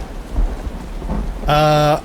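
Rain and a thunder rumble in the game URU: Complete Chronicles: steady rainfall with low rolling thunder throughout, then a short loud tonal buzz near the end.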